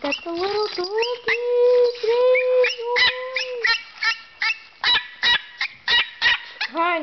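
A young puppy whines and cries to be let out, giving a close series of high, wavering whimpers and sharp yelps in an uneven rhythm.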